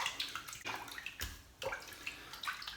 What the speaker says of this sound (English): let me rinse my hands. Let me get that soap off my hands